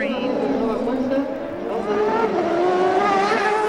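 A CART race car accelerates out onto the track during Saturday qualifying in Mexico City, its engine note climbing steadily under continuous commentator talk.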